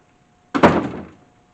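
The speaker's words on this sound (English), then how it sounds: "Go ahead and close the door." A door swings shut in a classroom with a single solid thunk, close and loud, and a short decaying rumble follows in an otherwise quiet room.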